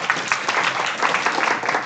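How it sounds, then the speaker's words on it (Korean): An audience at a tech conference talk in Seoul breaks into lively applause, many hands clapping at once in a dense, continuous patter. "자, 큰 박수 부탁드리겠습니다"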